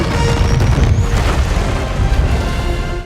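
Explosive bushes blow up in a Minecraft scene, a loud, heavy booming blast with a rumbling, crackling roar that fills about three seconds before cutting off.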